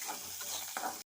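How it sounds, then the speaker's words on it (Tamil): Onions sizzle and crackle in hot oil with whole spices such as cinnamon, cloves and fennel, a steady close frying hiss stirred briefly before cutting off abruptly. "இப்போ வெங்காயம் போட்டுக்கலாம். இப்போ நல்லா வதக்கிக்கலாம்."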